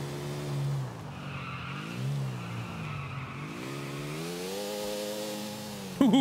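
A motorcycle engine in GTA IV revs and wavers through rising and falling pitch sweeps, then tires squeal in a sharp skid at the end, loud and close with no talking.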